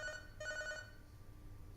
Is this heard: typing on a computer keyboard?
no